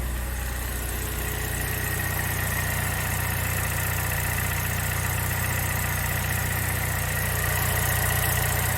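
A 2013 Chevy Sonic, just repaired of its misfires, idles smoothly with a steady, even low hum and faint vibration, heard up close and unbroken with no talking.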